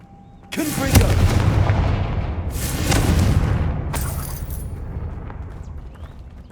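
Fire-blast spell effects from the Hogwarts Legacy video game, heavy booming explosions with rumbling decay, one large burst near the start and a second surge a few seconds later, loud and close.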